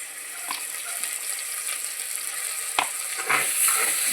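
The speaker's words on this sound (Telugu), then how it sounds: "ఉల్లిపాయ బాగా వేగిందండి అల్లం ఉల్లిపాయ పేస్ట్ వేసుకుందాం" Onions frying in oil with ginger-onion paste for bagara rice chicken curry, a steady close hiss with a few soft scraping stirs and a louder clatter toward the end.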